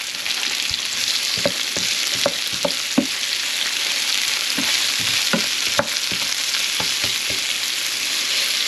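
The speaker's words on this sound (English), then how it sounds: "Add your onion." Onion hits a pan of lightly browned garlic and sautés with a steady sizzle, punctuated by sharp clicks and scrapes of stirring, close and fairly loud with no voices.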